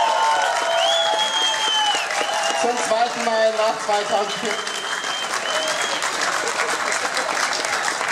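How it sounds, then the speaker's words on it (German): A large crowd at the CSD Munich 2016 Pride finale applauds and cheers for a man named Horst, in steady, loud clapping throughout, while a voice speaks briefly over it. "Einen großen Applaus für Horst."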